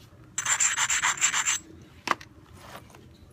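An obsidian edge ground with an abrasive during flintknapping, a close rhythmic scraping of about eight quick strokes, then a single sharp tap and a faint later scrape.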